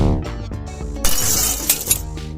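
Glass creatures are smashed in the Minecraft video game, loud shattering and breaking glass crashes over a busy game soundtrack, with a couple of sharp bursts of splintering glass close up.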